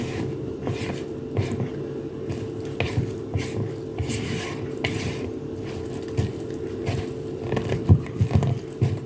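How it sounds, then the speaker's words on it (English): A spoon scrapes and taps in a bowl while zucchini muffin batter with added oil is stirred, giving soft irregular clinks and patters at close range with no talk. "Just want to stir it till it's mixed through"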